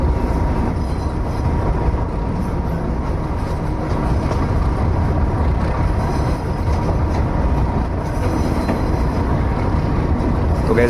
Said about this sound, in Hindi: अभी हमारी ट्रेन इस मेंटेनेंस शेड के पास ही होकर निकलेगी